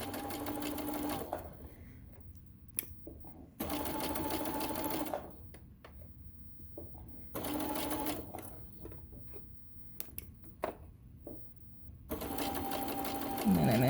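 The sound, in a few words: sewing machine stitching tote bag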